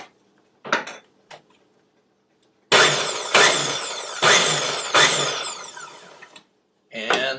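A kitchen mixing machine whirls eggs and salt with its lid on, loud bursts of buzzing, clattering whir in four or five short pulses, with a few faint knocks before.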